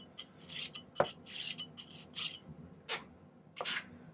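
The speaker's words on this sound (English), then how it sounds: "I'm just going to do a little more filing on this double billet that we made" Hand file worked over a silver double billet at a silversmith's bench, a series of short, quiet scraping rasps in an uneven rhythm, close by with no talking.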